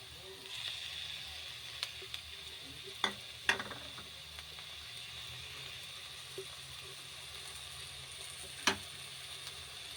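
Tomato goes into a pan of carrot and bitter gourd frying for a curry, giving a faint, steady low sizzle with a few sharp spatula clinks against the pan.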